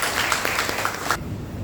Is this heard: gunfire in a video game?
no